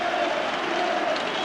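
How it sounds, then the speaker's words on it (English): Celtic supporters in a football stadium giving a substitute a warm round of applause, a steady wash of clapping and crowd noise from a large, distant crowd throughout. "Getting a terrific round of applause from the Celtic supporters"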